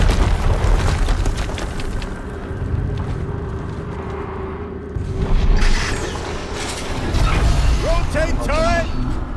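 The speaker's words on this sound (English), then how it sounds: "Another explosion." A video game explosion: deep booming blasts and rumbling mechanical noise rise in two loud waves, with a voice speaking throughout.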